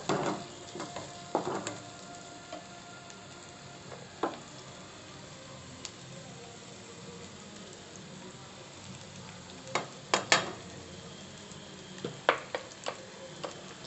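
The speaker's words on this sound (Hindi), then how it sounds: "अच्छे से मिक्स कर लेना है, थोड़ा फ्राई कर लेना है।" Red chilli powder, turmeric and garam masala fry in simmering masoor dal, giving a soft, continuous sizzle broken by occasional scrapes and knocks as the mixture is stirred.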